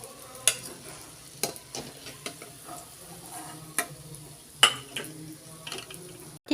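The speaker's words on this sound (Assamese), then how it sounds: "আৰু বাকী থকাকেইটাও মই এইদৰে ভাজি ল'ম।" Yeastless homemade doughnuts frying in oil in a wok, a faint bubbling sizzle broken by scattered clicks and light knocks of a utensil against the pan.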